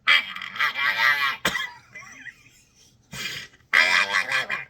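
A voice imitates a raspy, croaky cat meow in a few strained bursts, with short pauses between them.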